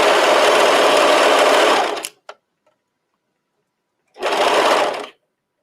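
A serger sews knit top fabric in two loud, fast, steady whirring bursts, with a short click and a pause of silence between them.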